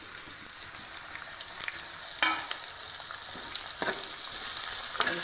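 Chopped onion, garlic, ginger and green chili fry in hot oil for arbi sabzi, giving a steady soft sizzle with occasional clicks of stirring, close by and without talking.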